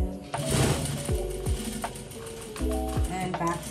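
A home sewing machine back stitches a sweater hem in short, loud bursts of rapid needle clatter separated by brief pauses, with the motor winding up and down between runs.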